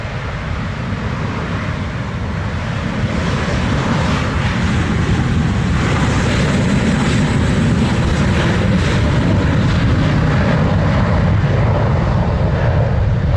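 An American Airlines Airbus A321 jet roars through its takeoff at Montego Bay, Jamaica, a loud, close, sustained engine rumble that holds steady the whole time.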